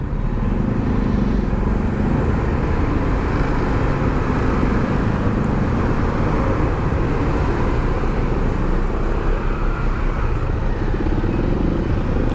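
Dense Monday road traffic rumbles steadily, cars and motorcycles packed close together, a loud continuous wash of engine noise with no break and no voices.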